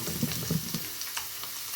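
Crushed garlic drops into hot oil with frying peanuts and mustard seeds for puliyogare powder, giving a close, steady crackling sizzle with a few sharper pops during a brief moment.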